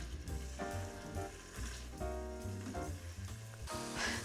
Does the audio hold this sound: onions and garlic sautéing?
yes